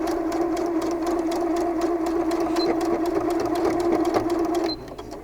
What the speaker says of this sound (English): And then I'm going to sew that until about the end of this pocket seam.